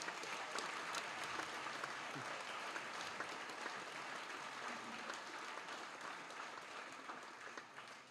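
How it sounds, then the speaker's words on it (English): An audience at a high school class day ceremony applauds in a steady, even wash of clapping that holds for several seconds and softens slightly at the end. "if you give him a round of applause, maybe he'll come up here"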